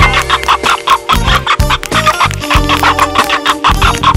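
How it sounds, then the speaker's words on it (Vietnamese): Cartoon clucking from a big fat chicken in an animated Vietnamese folk-tale scene, repeated loud clucks and squawks in a busy rhythmic run with layered music-like tones, no talking. "Ở đâu mà xuất hiện một con gà to béo thế này?"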